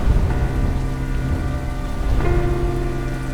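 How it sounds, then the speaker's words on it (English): Heavy rain from Hurricane Helene falling in the mountains of western North Carolina, a loud, steady broadband wash with a low rumble underneath and no voices. "Record levels of rain contribute to significant damage throughout western North Carolina."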